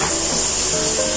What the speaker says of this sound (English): what we will do now is to add the mushrooms. So, we will saute the mushrooms.